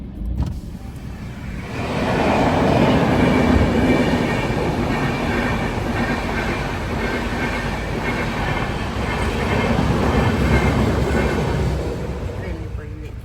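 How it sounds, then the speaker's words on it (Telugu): A train rolls past a closed railway gate where road vehicles wait, producing a loud, sustained rumble that builds after a quieter start and holds steady, with a person talking over it. "అదిగోండి, ట్రైన్ వెళ్తుంది"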